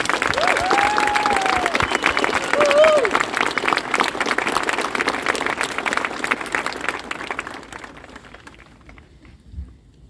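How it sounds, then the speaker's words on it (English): A crowd applauding loudly for veterans on an Honor Flight, the clapping gradually thinning and fading away toward the end, with a few voices mixed in. "Let's give them one more round of applause."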